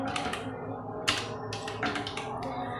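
Rapid clicking of keys on a computer keyboard as text is typed, close and fairly quiet, in irregular bursts with a sharper tap about a third of the way through.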